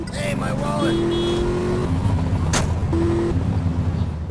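Car engine droning as the car drives in the PS2 game Grand Theft Auto: Liberty City Stories, with shifting engine tones and a brief sharp burst midway, while people talk over it.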